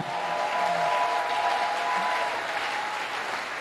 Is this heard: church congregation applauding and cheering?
yes